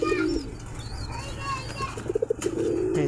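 Pet pigeons kept by a hobbyist coo in soft repeated rolling phrases, near and fairly loud, with a few brief bursts, a steady background hum and faint voices.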